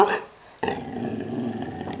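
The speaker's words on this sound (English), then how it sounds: "It's a bark. And growl." A trained dog growls on command, a brief sharp sound giving way to a low, sustained rumbling growl close to the listener.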